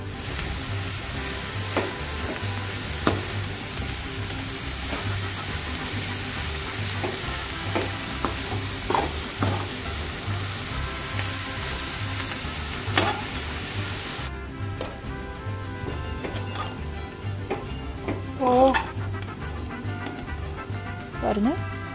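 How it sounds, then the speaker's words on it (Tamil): Egg and spinach stir-fried together in a pan: a steady, close sizzle runs throughout, broken by repeated scraping and clinking strokes of the spatula against the pan. "அந்த முட்டையும் கீரையும் சேர்ந்து ஒரு நல்ல பொரியல் மாதிரி வர வரைக்கும் நல்லா வணக்கி விட்டுக்கோங்க"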